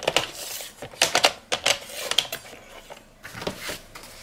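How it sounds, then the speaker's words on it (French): Paper strips for card making being creased and folded by hand, a close series of crisp taps, rustles and sharp creasing clicks in irregular bursts with short pauses between them. "on va faire le pliage de nos deux bandes de 7 cm de haut"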